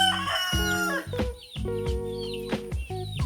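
Country chickens cluck in repeated bursts while a rooster crows loud and close on a backyard poultry coop with chicks, several calls overlapping over about three seconds.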